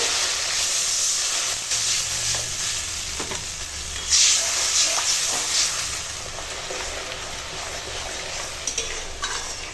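Water poured into fried spice masala for a chicken and potato curry sets off a sudden, loud hiss and steam burst midway through. Steady sizzling and stirring run close before and after, with no talking.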